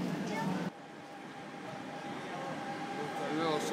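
A new subway train on Buenos Aires Line A rumbles steadily with a low mechanical hum, doors or brakes shifting early on, and faint voices underneath.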